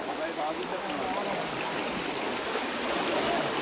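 Strong floodwater current during a flood in Comilla rushing past in a steady, loud, broadband wash of water that fills the whole stretch without a break.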